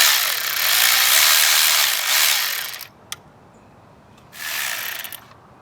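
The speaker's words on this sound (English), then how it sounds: "I'm going to take off these three ground nuts. They're 8mm nuts." A ratchet loosens 8mm ground nuts on a BMW N55 six-cylinder engine in an F33 435i, with a rapid, loud clicking run, a single sharp snap, a pause, and then another short burst of ratcheting.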